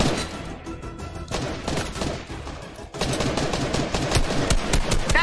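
Rapid automatic gunfire rattles at the player in Gang Beasts, loud and close, in dense bursts that pause briefly and then resume even harder without letup.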